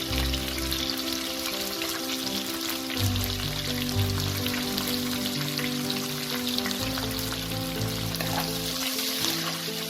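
Two chopped onions sizzle and fry steadily in hot oil in a pan for a traditional Bengali mutton curry, a continuous crackling hiss with occasional stirring, no voices.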